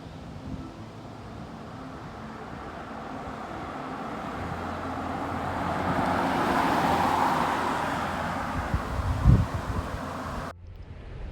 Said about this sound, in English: the car, aka the source, is moving towards the stationary receiver, my phone, at a relatively slow velocity